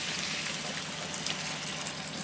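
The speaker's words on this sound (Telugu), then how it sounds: "కొంచెం వాటర్ యాడ్ చేసుకోవాలి." Water is added to a pan of green chilli chicken with ground chilli paste and salt, making a soft, continuous pouring wash heard faintly and alone.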